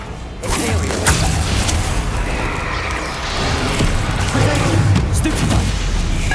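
Confringo explosive spell blasts in the Hogwarts Legacy video game, heard as repeated booms and whooshes within a dense, continuous wash of loud combat noise.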